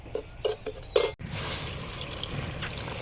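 Liquid pours steadily into a pan, a continuous wet rush following a few short clatters at the start.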